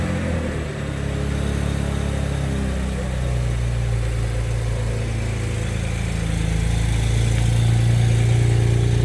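The engine of a BMW Z4 35is settles into a steady idle close by, with a low, even hum that rises slightly in pitch toward the end.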